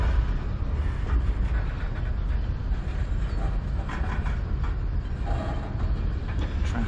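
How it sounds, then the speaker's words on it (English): A CN manifest freight train rolls eastbound through Sarnia, Ontario, a steady loud rumble of wheels on rail with faint rhythmic clacking throughout and no break in the passing. "I see a train."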